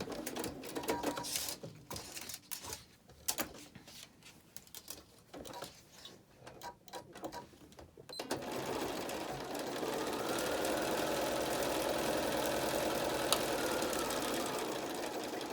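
A sewing machine back stitching a fitted mask, with a broken, uneven run of stitching followed by a steady, continuous machine whir that holds at a constant level.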